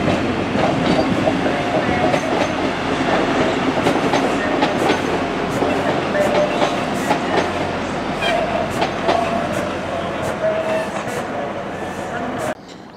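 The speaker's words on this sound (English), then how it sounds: "Just coming in now, is the service going to Llandudno?" An Arriva Trains Wales class 175 train rolls into the station with steady rumbling and rhythmic clicking of wheels over rail joints, loud and close, fading to quiet at the end.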